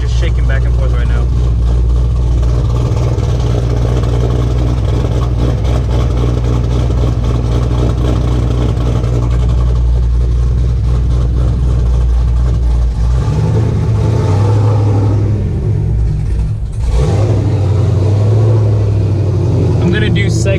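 A straight-piped fifth-generation Chevrolet Camaro SS idling, a loud, deep, throbbing low rumble that holds steady throughout from close inside the car, with someone talking over it.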